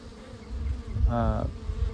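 Honey bees buzz steadily close by, a dense insect hum that swells briefly into a louder, nearer drone midway through, with no talking.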